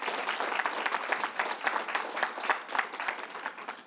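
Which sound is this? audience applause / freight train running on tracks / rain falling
audience applause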